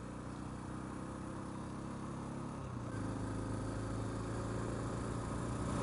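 A motorbike engine runs gently and steadily during break-in, a constant close drone whose pitch shifts slightly partway through, with no voices.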